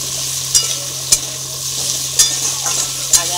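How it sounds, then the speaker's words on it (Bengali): Cut potatoes sizzle steadily in hot oil in a pan along with onions already fried red, with a few sharp scrapes and clinks as they are stirred. No one speaks, and a low hum runs underneath. "দিয়ে ভালো করে ভেজে নেব"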